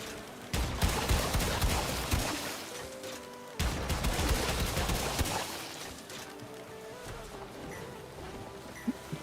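Rapid gunfire in a video game, dense bursts of shots that stop abruptly partway through and then resume, loud and continuous with a crowded, chaotic mix behind them.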